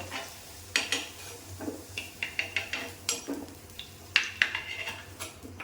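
A metal scoop clinks and scrapes in a pan as fried raw papaya pieces are lifted from hot oil, with faint sizzling under a quick run of separate taps and knocks, close and moderately quiet.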